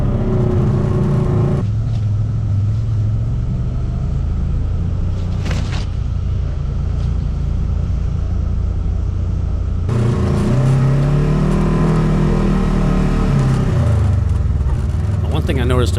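Polaris RZR side-by-side on bigger tires with a new Super ATV clutch kit, driving off-road with a loud steady engine drone and rumble, rising in a revving surge near the end.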